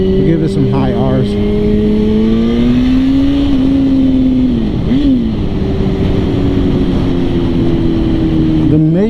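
A 2006 Suzuki GSX-R 1000 sportbike engine revs high on a ride, its loud steady drone climbing and dipping in pitch under constant wind roar, with a brief throttle blip midway.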